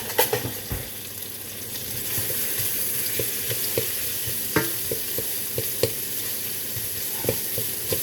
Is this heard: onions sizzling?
yes